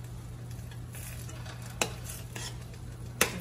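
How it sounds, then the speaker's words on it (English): Onion powder, garlic powder and spices being stirred in a frying pan for Cajun crawfish pasta, a low steady hum under faint scraping, with two sharp clinks of utensil against pan. "make sure you mix this frequently so it does not burn and stick to the pan"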